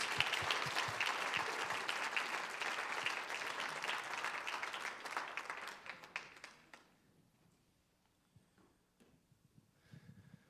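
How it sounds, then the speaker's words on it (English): Warm applause from diners at a church Lent dinner, full clapping for several seconds that thins into a few scattered claps and then a quiet room. "Let's your give time. Erin a round of applause."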